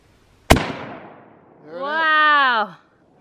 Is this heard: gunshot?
yes